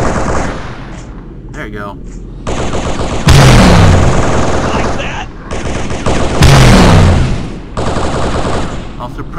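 Heavy automatic gunfire from the Halo SPV3 game comes in two loud sustained bursts with booming low impacts, set among battle noise while a voice speaks briefly.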